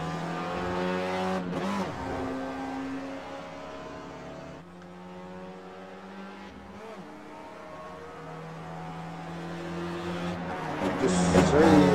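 A race car closes in from a distance behind, its engine note rising and falling under the steady drone of a nearby race car's engine on the final lap.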